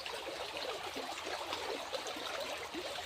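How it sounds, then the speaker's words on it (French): Small stream flowing steadily nearby, with a continuous bubbling trickle and gurgle. "c'est qu'un tout petit ruisseau"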